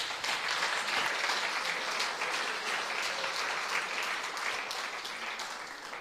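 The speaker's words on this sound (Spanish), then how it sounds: "Denle un fuerte aplauso al Señor." A church congregation gives a long, steady round of applause during a Spanish-language sermon, dense clapping filling the room at even loudness with no talking over it.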